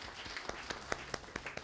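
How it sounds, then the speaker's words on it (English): Faint, scattered applause from an outdoor crowd at a city hall tree lighting ceremony, individual claps popping irregularly at a distance. "let's give a big round of applause to the Chamber"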